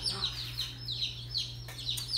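Chicks from a Cackle Hatchery surprise box, a mix of chickens with a turkey and a duck, give repeated high, thin peeping chirps at close range over a steady low hum.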